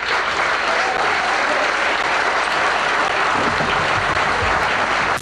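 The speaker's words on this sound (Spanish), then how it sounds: "Aplausos." A studio audience on the Argentine television show DDD bursts into loud, sustained applause after a speech, a dense, continuous roar of many hands clapping close by for several seconds without a break.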